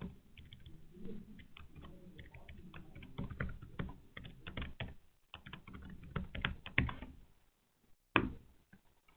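Quick clicking keystrokes on a computer keyboard while a password is entered, irregular bursts of taps for several seconds, a brief pause, then a final sharp key press, close and quiet.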